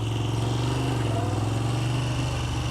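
A Moto Guzzi motorcycle engine drones steadily while riding, a loud, continuous low rumble with road and wind noise, close and unbroken throughout.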